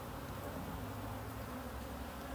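Honeybees hum around an open hive frame in a dense, continuous buzzing drone, close and steady.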